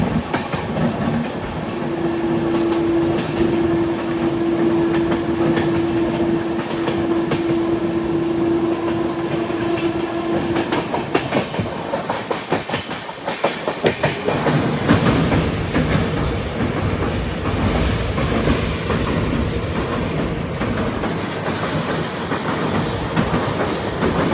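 A passenger train runs on rails between Talguppa and Shivamogga, heard from on board as a continuous close rumble and rattle with a sustained tonal hum for a stretch, no talking.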